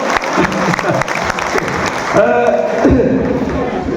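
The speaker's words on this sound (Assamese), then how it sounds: "ৰাইজে এবাৰ তালি বজাই দিয়কচোন" Crowd clapping at a BJP Panchayat election campaign rally, a dense, steady patter of applause with a voice amplified over it through a loudspeaker.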